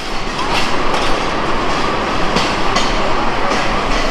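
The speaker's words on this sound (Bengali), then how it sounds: "বুড়িবাড়ি এক্সপ্রেস ট্রেন এখন বিমানবন্দর রেলওয়ে স্টেশনের এক নং প্ল্যাটফর্মে প্রবেশ করলো" The Burimari Express rolls into platform one at Airport railway station, a loud close rumble with a rhythmic clickety-clack of wheels over rail joints and faint squeals.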